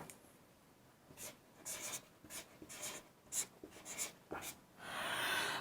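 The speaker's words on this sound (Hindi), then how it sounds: "थोड़ा सा गायब करके लिखता हूं।" Chalk or marker writing on a board during a maths lesson on divisibility rules, a series of faint, quick scratchy strokes in an irregular rhythm, ending in a longer rubbing stroke.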